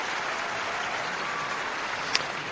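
A tennis crowd at the 2005 Australian Open semifinal claps and applauds in a dense, continuous wash of hand claps, evenly sustained for a few seconds.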